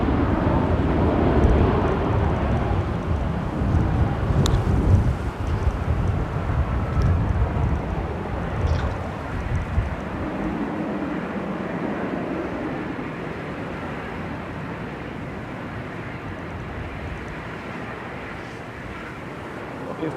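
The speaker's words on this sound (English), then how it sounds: "we've got Ryanair coming in from Dublin, Dubman, flight 1900." Ryanair airliner on arrival from Dublin at Manchester Airport, a broad steady roar that is loudest early and slowly fades, with wind buffeting and occasional voices.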